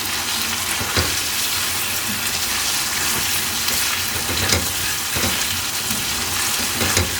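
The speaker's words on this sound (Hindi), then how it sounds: "अब इनको अच्छी तरह मसाले को भी मैंने भूनते जाना है और कोफ्ते भी साथ भूनते जाएंगे" Beef koftas sautéing in masala for a restaurant-style kofta curry give a steady, close sizzle and frying crackle, with a few sharp stirring scrapes breaking through the dense hiss.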